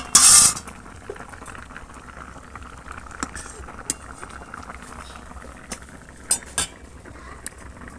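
A pot lid comes off with a loud metallic clatter over jackfruit boiling with turmeric, followed by soft bubbling and a few light utensil clinks.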